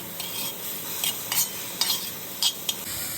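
Lentils are stirred into roasted grated coconut in a pan, with a steady soft sizzle underneath and several distinct scraping strokes of a spoon against the pan, close and clear.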